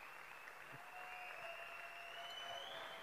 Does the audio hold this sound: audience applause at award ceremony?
yes